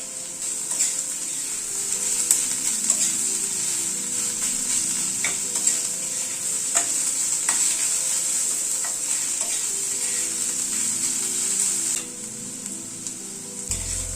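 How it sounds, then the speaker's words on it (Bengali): Crushed garlic and onion sizzle steadily in a hot pan, with occasional scrapes and clinks of a spoon stirring, continuous and close throughout with no talking. "রসুনটা দিয়ে একটু পেঁয়াজের সাথে ভেজে নিলাম।"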